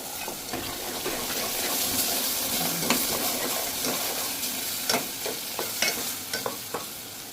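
Homemade masala sautéing in oil for amti, a continuous close sizzle with spoon scrapes and stirring clicks that become sharper and more frequent toward the end.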